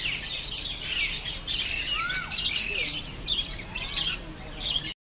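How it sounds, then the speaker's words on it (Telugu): Birds at Kakathiya Zoological Park squawk and chirp with sharp, repeated calls over steady aviary noise, fairly close and moderately loud, with faint voices in the background. "ఏమంటున్నాయి రా పిట్టలు?"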